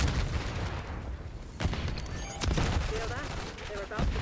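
Gunshots on the Nuketown map in Call of Duty: rapid bursts of automatic fire and single cracks scattered through a dense, noisy firefight, near and loud, with a faint voice now and then.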